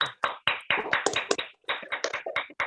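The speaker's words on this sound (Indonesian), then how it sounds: "Tepuk tangan dulu untuk paslon nomor 1." At a student association debate, an audience gives brief, fairly faint applause for the first candidate pair, with quick scattered claps that rise and fall over a few seconds.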